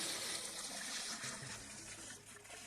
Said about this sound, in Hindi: तो सबसे पहले हम इसमें पानी भर लेते हैं